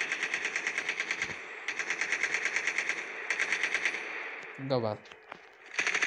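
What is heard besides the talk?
gunfire in the video game Call of Duty Mobile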